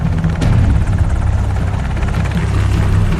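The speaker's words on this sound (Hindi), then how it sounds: "2 हेलीकॉप्टर एबटाबाद की इस गुमनाम हवेली के ऊपर आकर ठहर जाते हैं।" Two helicopters hover at night over a secluded compound in Abbottabad. Their rotors make a loud, steady, close drone with heavy low thumping that runs without a break, and no voices are heard.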